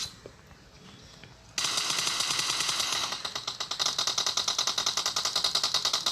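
Gunfire from an automatic weapon in the mobile game PUBG Mobile, a rapid, evenly spaced burst of loud shots that starts abruptly and continues as a sustained rattling stream with no talk.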